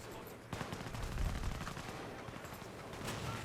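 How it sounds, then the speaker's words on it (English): Gunfire and explosions from a creeping artillery barrage in the World War II strategy game Company of Heroes, a steady wash of distant rattling shots and rumbling blasts with one sharper crack early on. "It looks like the creeping barrage is doing a wonderful job, though, of taking out the enemy."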